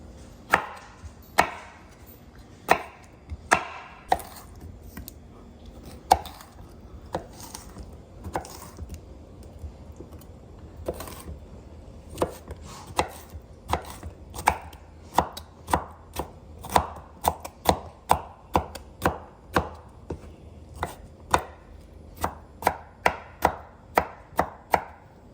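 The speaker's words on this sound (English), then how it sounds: "We do like a few extra pickles, so we'll do at least that many. We're just gonna get those diced up too." Knife chopping through pickles on a cutting board for potato salad, a steady series of sharp, close knocks at a quick, fairly regular rhythm with no talking.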